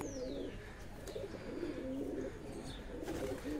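A favourite pigeon coos steadily in low rolling phrases, near and continuous, with light chirps above it.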